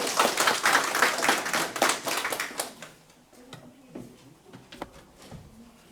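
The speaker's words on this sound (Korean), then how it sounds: "박수로 환영해 주십시오" Audience clapping welcomes a guest at the opening ceremony of a citizens' environmental leadership college in Jecheon, dense and loud at first, then thinning to scattered claps that fade out.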